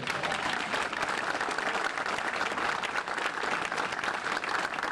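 Continuous, thick applause fills a room as an audience at a charity presentation in the Actors Home assisted living facility in Englewood, New Jersey, celebrates a large donation, holding steady throughout.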